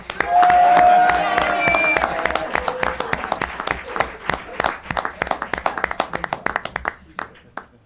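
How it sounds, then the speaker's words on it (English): A crowd at a town select board meeting gives the head coach a round of applause. The clapping is loud and dense at first over a spoken introduction, then thins to scattered claps and fades out. "how about a nice round of applause?"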